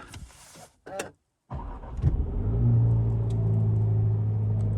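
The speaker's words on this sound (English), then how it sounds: "we can start up and have a listen to the engine note" A Jaguar F-Type sports car engine cranks and fires, a sharp bark of revs, then settles into a steady, deep idle rumble, close by.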